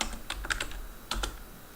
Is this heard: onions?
no